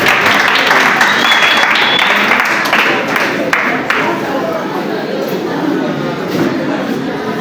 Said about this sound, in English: I'm gonna clap now